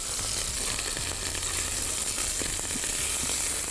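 Meat fries in a pan with a constant, bright crackling sizzle that stays loud and even throughout, with faint stirring clinks.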